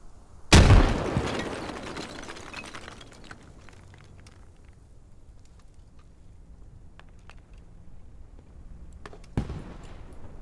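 A single loud grenade blast goes off in a military video game set in Fallujah, followed by a long decaying rumble, with a second sharper bang near the end.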